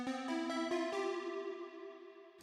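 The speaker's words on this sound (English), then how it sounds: "And then I have these other two synth leads in the drop." Bright synth lead from the drop of a future UK garage track, a few quick stepped notes rising then one long sustained tone, steady and solo without voices.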